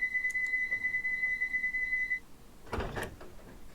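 A Bakerloo Line train door closes in Train Sim World 2: a steady warning beep tone plays and then stops, followed by a short, near thud and slide of the door.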